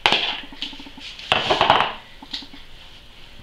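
A homemade bowl cake in its bowl is handled and set inside a microwave, giving a series of close clinks, knocks and light clatters, with a denser cluster of contact sounds midway and no talking.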